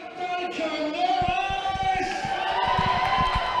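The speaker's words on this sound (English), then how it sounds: "So you see the crowd there getting into it to start the second half." Rugby league crowd at a Dapto Canaries versus Thirroul Butchers qualifying final roaring as the second half begins, a broad sustained cheer with shouts and whoops, heard at a distance with a commentator's voice over it.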